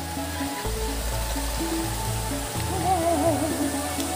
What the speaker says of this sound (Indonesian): Nah, ini air hujan.